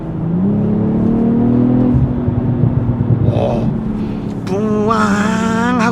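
A BMW M340i Touring's exhaust drones steadily and loudly from inside, then swells into a rising, throaty rev as the engine accelerates hard under kick-down near the end.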